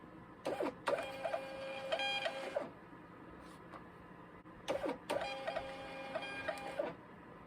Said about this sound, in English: Why is it printing so slow?